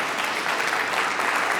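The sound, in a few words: applause for government sponsors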